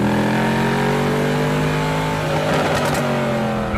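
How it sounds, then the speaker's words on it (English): A Mercedes SLS AMG driven hard from Mulholland in Los Angeles, its engine roaring steadily and loudly as it accelerates, with rising pitch close to the car. "Leno blasts off from Mulholland on his lap of Los Angeles."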